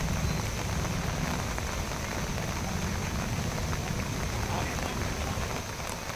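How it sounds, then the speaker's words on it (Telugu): Heavy, unrelenting rain pours down in Narasapuram, West Godavari district, Andhra Pradesh. It makes a dense, even hiss and patter of drops on surfaces at steady loudness throughout. "పశ్చిమ గోదావరి జిల్లా నరసాపురంలో ఎడతెరిపిలేని వానలు కురుస్తున్నాయి"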